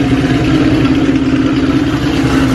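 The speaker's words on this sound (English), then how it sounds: "let's listen to these exhausts. Pypes Performance Violator axle backs." A Coyote-swapped 1968 Mustang fastback running Pypes Performance Violator axle-back exhaust, with a loud, steady idle rumble heard close by and no one talking.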